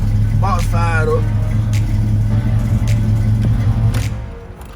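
Old Chevy engine idling just after firing up, a loud low rumble close by, with a person speaking briefly over it near the start.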